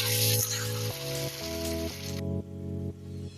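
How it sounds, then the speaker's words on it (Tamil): Mustard seeds and curry leaves tempered in hot oil sizzle loudly as they are tipped into peanut chutney, a bright hiss that drops away sharply partway through, leaving a quieter background with steady tonal hum underneath. "இந்த தாளிப்பை இப்போ இதில் சேர்த்துக்கலாம்"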